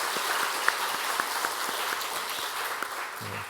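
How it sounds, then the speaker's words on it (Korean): A church congregation in Korean worship claps steadily, a dense wash of hand claps with a few sharper individual claps standing out, no voices over it. "오늘 예배하면서 먼저 우리가 기쁨으로 박수하면서 하나님께 찬양과 영광을 올려드리겠습니다"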